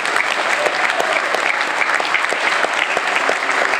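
Concert audience applauding for the sound crew, a dense steady patter of many hands clapping, full and continuous.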